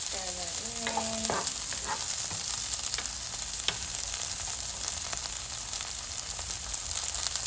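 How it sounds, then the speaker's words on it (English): Green onions hit a hot pan and are stirred in, giving a steady bright sizzle with a few clinks and scrapes early on, close and even throughout, with no voices. "we're going to throw our green onions in there next. And just kind of stir it in."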